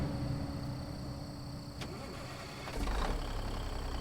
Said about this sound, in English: we've got an N14 805 horsepower under the hood, so you'll hear it when we start it up